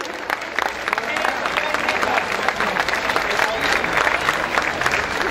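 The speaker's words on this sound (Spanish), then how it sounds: "Un aplauso para estas niñas también." Audience at a Santa Cruz folk festival serenade applauds a group of girls on stage, a dense, steady roar of many hands clapping throughout, with some crowd voices mixed in.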